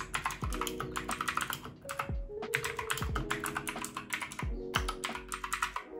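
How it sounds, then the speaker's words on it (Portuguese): Rapid typing on a TGT Sherman mechanical keyboard during a Monkey Type typing test: dense, continuous clacky keystrokes close to the microphone, with occasional heavier thocks from larger keys, and no voices. "Eu também cheguei a fazer um teste de digitação no site Monkey Type"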